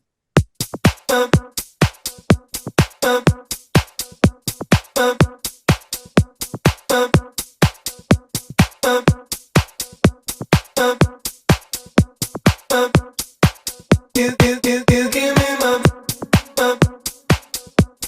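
A music loop with sharp, punchy beats and short chopped vocal fragments repeating in a steady groove, with a denser burst near the end.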